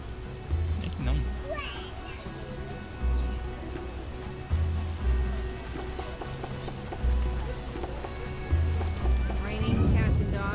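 Heavy rain pours steadily in The Witcher video game, with deep rumbles of thunder rolling in repeatedly every second or two; a voice speaks briefly over the storm near the end.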